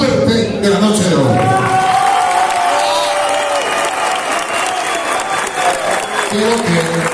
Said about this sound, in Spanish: quiero que le entreguemos desde Mario hasta Lucho, el aplauso más fuerte de la noche de hoy